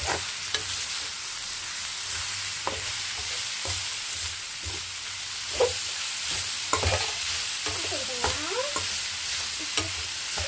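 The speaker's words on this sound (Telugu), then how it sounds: "క్యాబేజ్ అయితే చేశారు కదా ఈ విధంగా ఫ్రై అయిపోయింది" Chopped cabbage sizzles softly in a hot pan on a home stove while a spoon scrapes and stirs it in repeated short strokes, with no talking.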